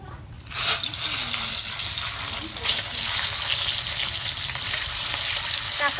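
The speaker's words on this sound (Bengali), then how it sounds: "এখন আমি ডিম কিনে আমি ভাইজা নিব" Eggs frying in a pan: a loud, steady sizzle starts abruptly after a brief quiet moment and continues close and dense to the end.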